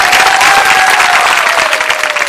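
Loud audience applause at a Hindi poetry recital, a thick burst of clapping from a large crowd that rolls on steadily before tapering slightly at the end.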